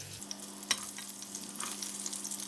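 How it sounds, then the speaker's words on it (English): Spices and garlic fry in hot cooking oil for a Spanish mackerel fish head curry, giving a steady, fairly quiet sizzle with a faint utensil clink partway through. "next I'm going to put in all the spices and the garlic. We're going to fry this first."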